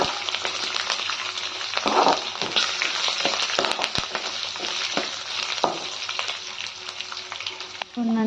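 Finely chopped garlic, ten to twelve cloves, fries in a pan for capsicum chitranna, hissing steadily with scraping and clattering stirring strokes mixed into the close, continuous sizzle.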